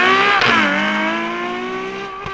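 A Ferrari 812 Superfast V12 screams on the track at Fiorano, with a loud, close, rising engine note that dips briefly at a shift and then climbs steadily again, with no talking.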